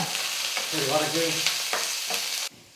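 Chopped onion sautés in a pan for a potato masala, a close crackling sizzle broken by several scraping stirs of a utensil, fading quickly near the end, with no talking.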